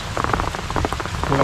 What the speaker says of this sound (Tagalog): mapalakas ang ulan.